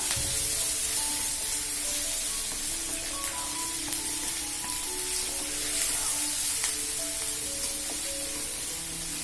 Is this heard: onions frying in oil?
yes